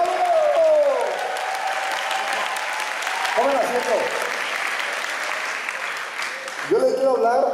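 An audience at a USANA celebration event in San Diego applauds loudly and continuously for first-time guests, with someone speaking into the microphone over the clapping.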